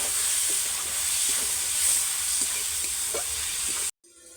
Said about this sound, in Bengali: এবার টমেটো কুচানো দিয়ে দিচ্ছি।